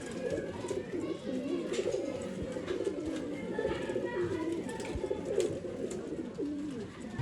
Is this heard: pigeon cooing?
yes